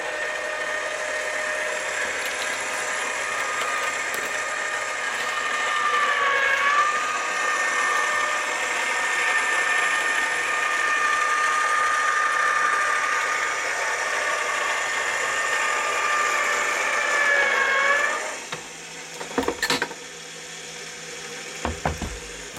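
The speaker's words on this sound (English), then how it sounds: "they say that the eBuzzer is the biggest electronic die cutting machine on the market" An eBuzzer electronic die cutting machine runs with a steady, high-pitched motorized whine and hum for about eighteen seconds, shifting pitch slightly midway, then stops, followed by a few sharp clicks and knocks.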